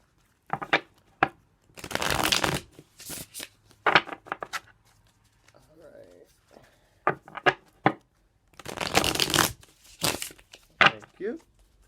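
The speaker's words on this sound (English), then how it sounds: "That was a bad shuffle." Tarot cards are shuffled in several riffling bursts, crisp and close, with short taps and pauses between, alongside soft talk.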